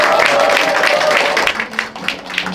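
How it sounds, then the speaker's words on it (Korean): Applause at an election campaign office opening ceremony for a district mayoral candidate: a dense, loud wash of many hands clapping that thins and fades after about a second and a half. "박수 부탁드리겠습니다."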